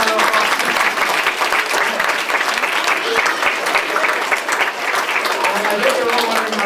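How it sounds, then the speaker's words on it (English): Dense, sustained applause from a large audience at a magic show, loud and even for the whole stretch. "give a big round of applause"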